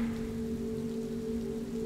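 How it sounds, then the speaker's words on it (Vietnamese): Steady rain with wind outside, a dense even hiss of falling drops heard alone, with a faint low hum beneath and no voices. "mặc kệ bên ngoài trời vẫn đang mưa gió rì rầm"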